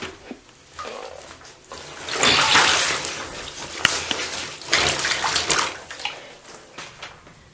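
Cold water runs into a tub to soak and rinse hiking gear. It makes a steady, close rushing pour with sloshing and splashing that swells in the middle, and there is no talking.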